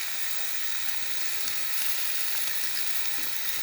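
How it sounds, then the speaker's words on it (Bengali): Egg and noodles fry in a pan with an even, hissing sizzle and faint stirring, heard up close and steady throughout. "ডিম দিয়ে নাড়াচাড়া করা হবে"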